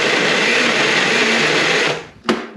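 A kitchen blender pureeing chili garlic oil gives a loud, steady, high-pitched whir that runs for about two seconds, then cuts off and leaves a single sharp click.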